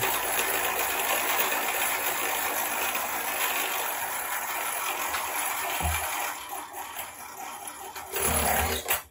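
A spinning gyroscope wheel slows down, wobbling as it loses speed and then falling off, giving a loud, steady whirring hum that fades and turns uneven, ending in a short clatter.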